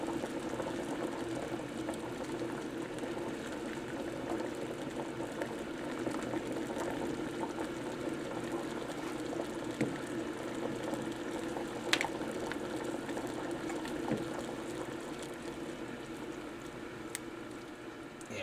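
Water boiling steadily on a classroom stove, used to soften a heat-moldable insert; a continuous bubbling hiss with faint scattered pops and ticks, fairly quiet and unbroken, with no talk.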